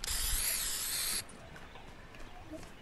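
A spray can hisses in Fortnite as a mark is tagged: one steady, bright burst lasting about a second that cuts off sharply, leaving a quiet background.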